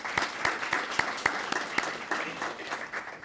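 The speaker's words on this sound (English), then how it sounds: "if we can give them a round of applause" An audience applauds scholarship sponsors at a student-of-the-month recognition ceremony, a steady wash of many hands clapping with a few sharper individual claps standing out, moderately loud and sustained throughout.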